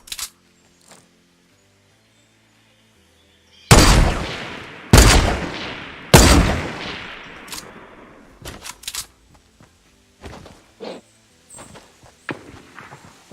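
Gunfire in a battle royale video game from a thermal rifle: three loud, sharp shots close together, followed by scattered fainter shots and clicks from farther away, with silence between bursts.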